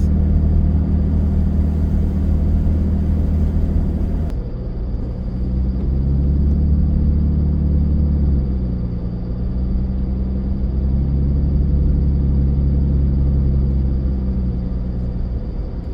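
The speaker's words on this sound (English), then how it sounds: "Driving into a snowstorm on May 18th." A car cruises down a road heading into a May snowstorm on the way to Lake Superior. A steady, close engine and tyre rumble rolls on without a break, with no talk over it.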